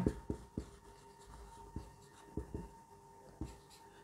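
Quiet scratchy writing strokes on a board or paper, with sharp taps at the start of each stroke in an irregular rhythm, close and faint, with no speech.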